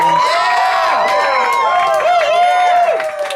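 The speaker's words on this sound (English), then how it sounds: "Massive motherfucking round of applause for Jared Wilder." A comedy club crowd at a Laugh and a Draft show cheers and whoops loudly for the host, with applause and shouting voices filling the room continuously.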